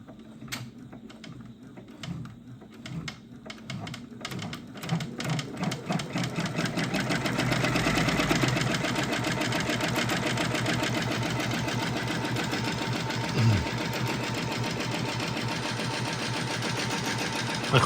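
A Brother PR680 embroidery machine, freshly greased and oiled, starts up with rapid rhythmic needle clatter that builds in speed and then runs steadily at a fast, even pace, fairly quiet and close.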